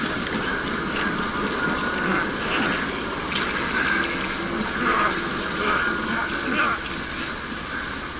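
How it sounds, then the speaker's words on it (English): Steady rain falls in the video game Death Stranding, a constant close hiss of drops with soft patter running through the whole stretch, while a voice murmurs faintly underneath. "Good thing it's raining."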